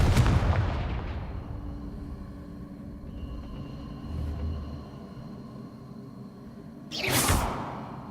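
A fire spell bursts in the video game Hogwarts Legacy with a loud blast and whoosh, followed by a fading rumble and a second sharp burst near the end.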